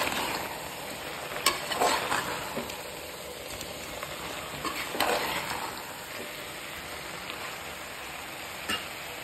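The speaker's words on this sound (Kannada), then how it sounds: "ಖಾರದ ಪುಡಿ, ಧನಿಯಾ ಪೌಡರ್ ಹಾಕಿ ಮಿಕ್ಸ್ ಮಾಡಿ" Chili powder and coriander powder stirred into chicken gravy frying in a pan: a steady close sizzle with scraping spoon strokes and brief louder bursts, no voices.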